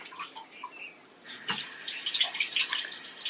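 A Luxe Bidet Neo 180 runs its feminine wash, bursting into a steady, hissing water spray partway through after a few faint clicks and drips, continuing loud and unbroken to the end.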